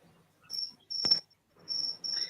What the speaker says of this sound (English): Yeah, your cricket's calling,